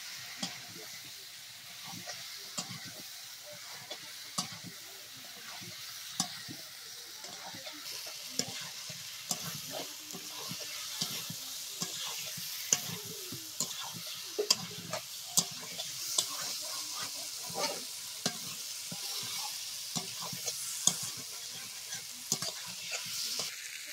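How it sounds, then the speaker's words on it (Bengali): Potatoes are stirred into chicken in a pan as it fries, with a soft continuous sizzle and frequent scraping, tapping strokes of a spoon against the pan, fairly quiet and close, with no talk. "আলুটা দিয়ে আর একটু কষাতে হবে।"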